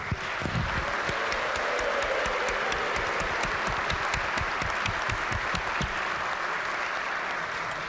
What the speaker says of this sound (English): Ladies and gentlemen, how about a round of applause for our guest speaker today?